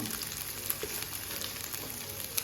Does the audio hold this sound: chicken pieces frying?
yes